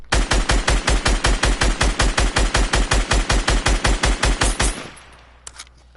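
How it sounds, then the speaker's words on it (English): Rapid automatic gunfire in a video game, fired into a brick build: about two dozen loud, evenly spaced shots in one steady burst lasting nearly five seconds, then a quiet tail with a couple of faint clicks. "So, let's just shoot right here."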